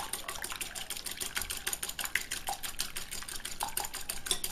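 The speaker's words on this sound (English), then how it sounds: "First, I am going to just beat up the egg." A small whisk beats an egg in a bowl with quick, steady, light clicking and tapping strokes, a continuous rhythmic rattle at moderate distance with no talking.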